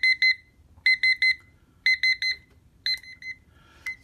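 Digital kitchen timer alarm on its loud setting, sounding shrill high beeps in quick clusters of three or four with brief pauses between, close and piercing over a quiet background.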